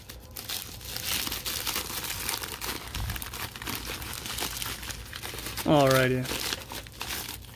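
Trading card packages rustle and crinkle steadily as they are cut open with scissors, a close crumpling texture throughout, with a brief voice speaking near the end.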